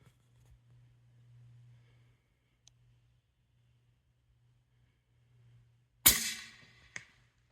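A suppressed gunshot fires as one sharp, loud crack after a quiet stretch. A fainter, brief thud follows about a second later as the slow bullet strikes the dirt.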